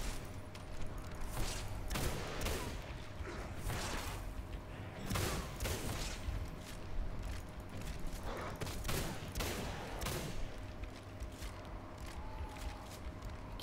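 Gunfire in the video game Singularity: repeated sharp shots and bursts crack over a constant game background hum, with no talking.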